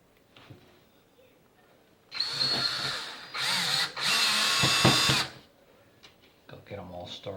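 Power drill driving screws into a wooden soap mold: three loud whirring bursts of a few seconds each, separated by short pauses, with brief talk before and after.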